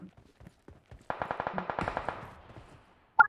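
A rapid burst of automatic gunfire in PUBG Mobile on the Livik map: about a second of closely spaced loud shots, followed by one sharp single report a moment later.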